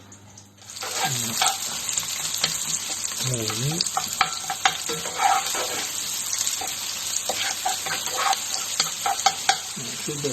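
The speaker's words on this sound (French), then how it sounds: "j'entends mon beurre qui chante" Butter sizzles and crackles steadily in a pan while asparagus is stirred for a velouté, with scraping stirring strokes recurring over the frying, close and continuous; a voice briefly says a word.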